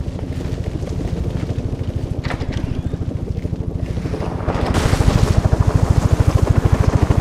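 A rhythmic thumping helicopter rotor in Batman Arkham Origins pulses loud and steady throughout, swelling in intensity in its last few seconds with a whooshing rush.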